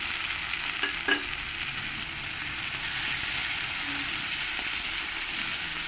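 Onion and tomato sautéing in a pan for a vegetable kurma, a steady close sizzle with a few soft scrapes of a spoon as they are stirred.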